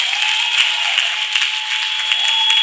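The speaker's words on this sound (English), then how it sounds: "Can you clap for Master Jesus?" A church congregation claps continuously for a healing testimony, a dense, steady wash of many hands with a sustained tone ringing under it, loud and unbroken throughout.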